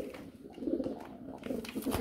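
A racing pigeon coos in low, throaty repeated phrases, close and fairly soft, with no talking over it.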